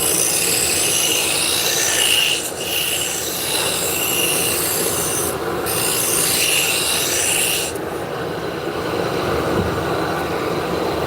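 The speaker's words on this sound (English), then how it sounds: "we're on the wood lathe now" Continuous scraping and rasping of a wood lathe turning a workpiece, loud and close, with a steady grinding hiss and a high whining squeal that drops in and out as the tool bites and eases off.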